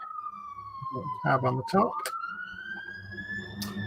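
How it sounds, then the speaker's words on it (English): An emergency siren outside wails in a steady, gradually rising tone throughout, moderately loud, while a person talks briefly over it and some handling clatter sounds nearby. "I can hear sirens."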